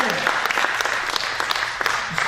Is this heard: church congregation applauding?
yes